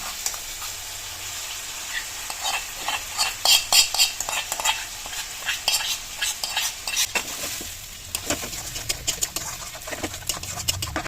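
Taro stem and dried fish bharta stirred in a frying pan, a steady sizzle under repeated scraping strokes of a spoon, close and fairly loud, with no voices.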